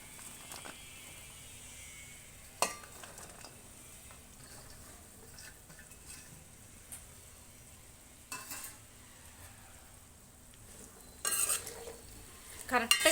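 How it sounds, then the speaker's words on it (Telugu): Bitter gourd fries in a pan on a low flame with a faint steady sizzle, broken by occasional scraping stirs and clinks of a spatula against the pan, heard close up. "ఇగోండి కాకరకాయలు వేసేస్తున్నాను"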